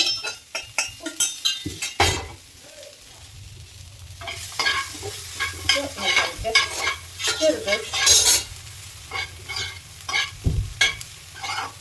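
Cooked flat noodles tumble into a hot pan with vegetables and are stirred, giving a steady sizzle broken by repeated scraping and clinking of a utensil against the pan, close and fairly loud.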